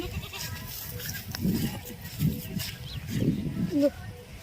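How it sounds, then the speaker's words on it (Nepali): A mother goat bleats on a farm with several short, close calls, mixed with people talking nearby. "माउ बाख्री यहाँ छ हाम्रो माउ बाख्री"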